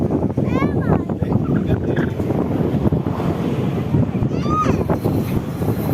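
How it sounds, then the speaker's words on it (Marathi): Strong wind buffets the microphone in a steady, loud roar outdoors on a trip to a temple festival at Pandapur, with brief chirping sounds over it near the start and again later. "वारं पण जास्त होत आहे."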